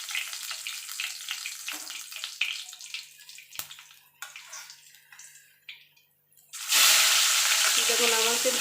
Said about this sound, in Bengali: এবার এইভাবে বাকি মাছগুলো আমি ভেজে নেব।